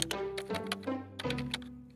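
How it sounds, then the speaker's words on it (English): Rapid computer keyboard typing, close and fairly quiet, as a boy writes code indoors: a steady run of crisp key taps with a few heavier thunks and a faint sustained musical tone underneath. "The keyboard sound coming from inside is my brother, Tomi"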